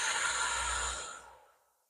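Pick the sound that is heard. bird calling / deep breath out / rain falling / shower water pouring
deep breath out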